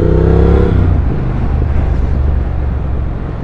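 A 2023 Triumph Speed Twin retro motorcycle's engine revving loudly up close, a deep throbbing burst that settles into a rumbling idle with wind buffeting, no talking.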